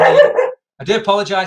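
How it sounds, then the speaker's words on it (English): A pet dog named Watson barks during a live online keynote, short yaps mixed in with a man's apologetic speech, fairly close and clear. "that's my dog Watson, who promised to be quiet"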